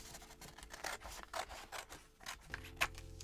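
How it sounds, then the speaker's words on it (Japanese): Scissors cut through paper junk mail at close range in a quiet room, a rapid series of rasping snips with a rustle of paper in between and no talk. "個人情報書いてあるところは全部切り"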